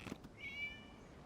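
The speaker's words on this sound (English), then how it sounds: "It was a cat." A single short, faint cat meow from Genshin Impact, heard alone against a quiet background.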